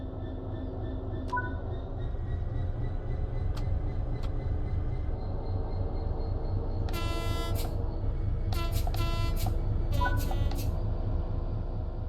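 A Class 66 diesel locomotive in Train Sim World rumbles steadily at a low idle, with faint clicks from the cab and a few short harsh horn-like blasts.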